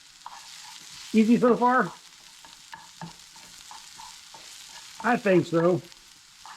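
Food sizzles and frying in a hot pan while being stirred, a steady broadband hiss with scraping under two short bursts of nearby talk.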